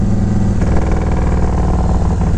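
A carbureted Yamaha Road Star 1700 Silverado touring motorcycle idles up close with a loud, low, lumpy rhythmic thumping. Its steady pulse has a slight change in tone partway through.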